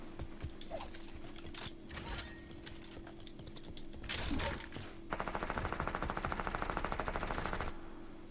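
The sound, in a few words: minigun firing in Fortnite video game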